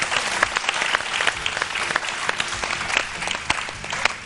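Studio audience clapping on a Hindi morning TV show, a dense, steady wash of many hands with sharper individual claps standing out, fairly close and continuous throughout.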